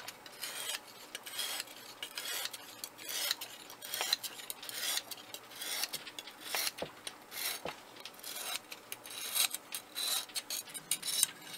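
A knife blade is drawn across the coarse stone of a Lansky sharpening kit at a 20-degree angle, giving repeated faint, gritty rasping strokes in an uneven rhythm, close and alone with no talking.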